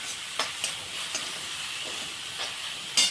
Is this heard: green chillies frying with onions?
yes